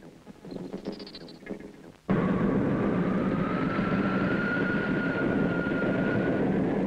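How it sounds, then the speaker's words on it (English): Spaceship approach effect from the 1962 series Space Patrol: after some busy sounds, a loud sudden roaring rumble with a steady whining tone that slowly rises and holds, close and continuous. "Unidentified ship approaching the satellite Callisto."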